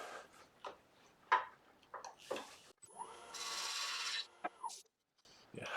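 A lathe tool cuts beneath the foot of a wet-turned wooden bowl, giving short scraping rasps and ticks, then a longer steady hissing cut, faint and close with pauses between.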